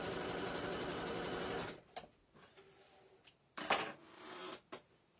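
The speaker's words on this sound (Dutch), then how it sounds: "Oh, dat was mijn naaimachine." A sewing machine runs in a steady, loud mechanical burst lasting under two seconds, followed by quieter handling noises and a few shorter stitching bursts nearby, with no talking.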